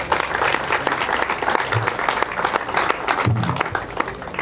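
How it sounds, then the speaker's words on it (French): Dense, steady applause from a crowd at a political gathering in Marseille continues loud and even throughout, with occasional faint voices underneath. "on peut les applaudir"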